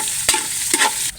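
Black pepper stirred into a hot pan of sautéing aromatics, a steady bright sizzle broken by a few quick scraping stirs, close and with no talking.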